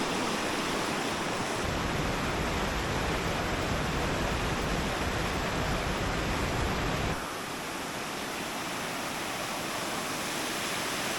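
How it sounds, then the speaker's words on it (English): A rushing Alpine stream in the Austrian mountains roars as a loud, continuous broadband wash of water, close and steady, with a slight shift in tone partway through and no voices. "Enjoy the water rushing by."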